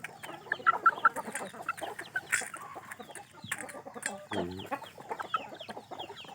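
Rooster, an aging father bird of a farm flock, clucking in short repeated bursts amid a busy barnyard of other fowl calls, fairly close with some faint background voices.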